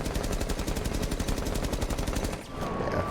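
Rapid automatic gunfire in Rainbow Six Siege, a steady burst of evenly spaced shots that runs nearly three seconds, then cuts off before a short, quieter tail.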